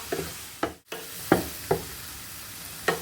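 Chicken breast pieces shallow-frying in a pan give a soft, steady sizzle, broken by five or six distinct clacks of a spoon stirring against the pan at uneven intervals; no one speaks.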